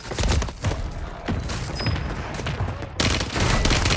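Gunfire in Call of Duty on Rebirth Island, with a loud, close barrage of rapid shots and thuds broken by brief pauses, then a fresh burst near the end.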